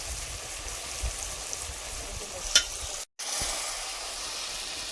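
Fish sizzling in a pan on a wood-fired village stove, a steady hiss of frying with a brief sharp crackle and a short break, no talk over it.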